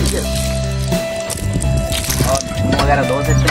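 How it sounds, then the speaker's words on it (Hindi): A village hand pump drawing water, with squeaky metallic strokes and gushing, splashing water close by, while people talk over it. "ये देख सकते हैं गांव का नलका, इसको ऐसे करेंगे और ये चलेगा और पानी निकालेगा।"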